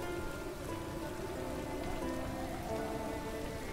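Steady rain falling in a Witcher 3 fan-made expansion, an even, continuous patter on surfaces, moderately quiet with no voices.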